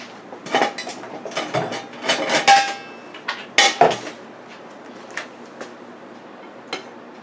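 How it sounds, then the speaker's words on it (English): Candied yams in a pot with orange, lemon and lime juice being stirred by hand, giving a series of irregular scraping and clinking knocks of a utensil against the pot, close and fairly loud at first, then sparser taps trailing off. "now let me stir that up"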